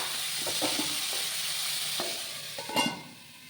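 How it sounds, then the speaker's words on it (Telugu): Chopped tomatoes sizzle and fry in a pan over a low flame for paneer butter masala, with a steady close hiss broken by a few soft scraping stirs of a spoon. "ఇవన్నీ వేసేసి మనం లో ఫ్లేమ్లో పెట్టుకొని ఇవి బాగా మగ్గిపోయేలాగా ఫ్రై చేసుకోవాలన్నమాట"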